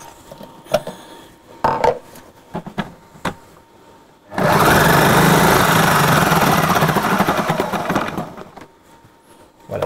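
Magimix Cook Expert food processor slicing cucumber, a loud, steady motor whir with a dense blade rattle that starts abruptly after a few seconds of scattered clicks and handling knocks, running continuously before easing off near the end.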